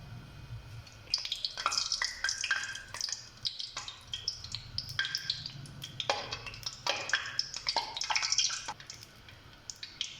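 Whole cardamom pods and a cinnamon stick fry in hot ghee for a spinach and mutton curry, giving a soft crackling sizzle with scattered pops and stirring scrapes throughout, fairly quiet and with no voices.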